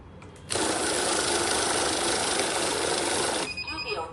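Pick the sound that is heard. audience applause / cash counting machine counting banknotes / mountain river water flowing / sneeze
cash counting machine counting banknotes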